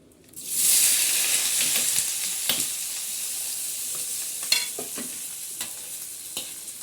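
Chopped onions sizzle and fry in a little oil in a pot on a stove, a steady bright hiss with occasional stirring scrapes and clinks, close and alone without talk.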